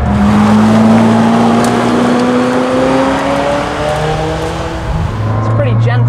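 McLaren Senna supercar driven hard around a gentle left-hand track corner, engine droning steadily loud with rising and falling pitch through the turn as the driver brakes and turns in, with a voice talking over it.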